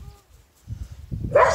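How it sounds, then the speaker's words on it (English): A dog barks in short bursts at newly born lambs on a farm during lambing, the barking rising to a loud, close cluster of yips and woofs toward the end. "He always has to bark at the new ones, like, until he knows that they belong to us."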